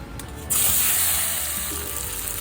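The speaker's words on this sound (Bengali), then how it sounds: "এই চিংড়ি মাছগুলো আমি এখন আগে ভেজে নেব।" Prawns, marinated in salt and turmeric, drop into hot oil in a pan and burst into a loud, bright sizzle. The frying hisses steadily, fading slightly over the next two seconds.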